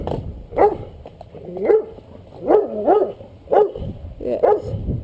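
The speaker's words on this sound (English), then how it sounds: "Here comes the Doberman." A Doberman barks outdoors in a series of about six loud, close barks spaced irregularly, with some yips and whimpers in between.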